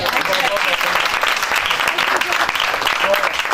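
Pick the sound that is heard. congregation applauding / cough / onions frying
congregation applauding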